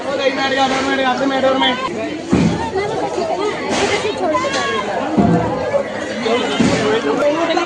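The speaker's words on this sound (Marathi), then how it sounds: "आणि आज गर्दी बघा किती झालेली आहे" Busy market crowd at Tulsi Baug, a steady babble of many overlapping voices close by, with occasional louder nearby voices and thumps cutting through the chatter.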